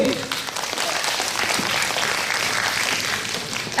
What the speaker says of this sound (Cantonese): 好，俾啲掌聲，鼓勵鼓勵。